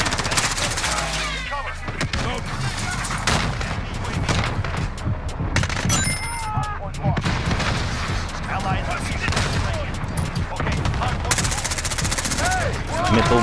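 Sustained gunfire fills Call of Duty Modern Warfare, with dense automatic bursts and scattered shots that run loud and continuous throughout, mixed with game effects and overlapping talk.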